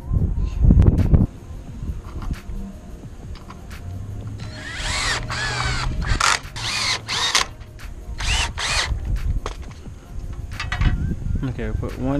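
Power drill boring into a wood and aluminum hybrid boat frame piece, several short high-pitched whirring bursts in quick succession mid-clip, with quieter workshop clatter before and after.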